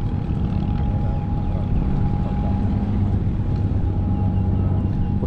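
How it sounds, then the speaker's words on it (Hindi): A ship moving on the water in Old Dubai gives a steady low engine rumble with a faint constant tone above it, heard under wind noise and continuing throughout. "ये देखें शिप चलती हुई जा रही है"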